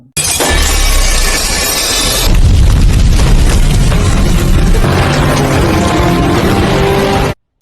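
A grenade blast destroys a warehouse, a loud cinematic boom with shattering glass and crashing debris, followed by a sustained rumbling roar and scattered falling fragments for several seconds before cutting off abruptly.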